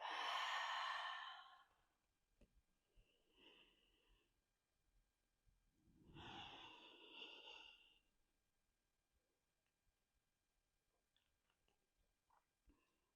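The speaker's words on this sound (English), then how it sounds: "Just breathing deep." Slow, deep breaths during a yoga practice: a long audible exhale at the start and another drawn-out breath midway, with near silence and faint small ticks between them.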